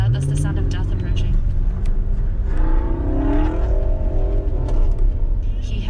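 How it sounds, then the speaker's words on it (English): Chevrolet Camaro on racing slicks at an autocross event, engine rumbling and revving continuously under an excited commentator's running speech. "he brought a crazy Camaro on slicks"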